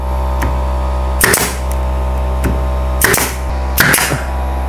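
A pneumatic nail gun fires into a wooden kitchen cabinet face frame: three or four sharp, close snaps with short air bursts over a steady background hum.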